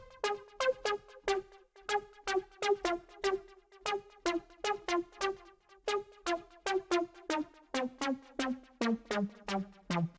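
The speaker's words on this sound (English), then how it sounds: "the last lead I'm going to show you is called Mirrors and sounds like this." Mirrors, a tech house synth lead preset, plays a busy staccato melody of short plucked notes with clicky attacks over a faint low pulse, stepping downward in pitch toward the end, with no voices.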